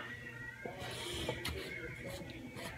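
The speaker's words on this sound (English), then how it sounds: "Because the cats are playing" Cats at play in a home, faint meows and caterwauling cries mixed into a noisy, muffled background, distant rather than close.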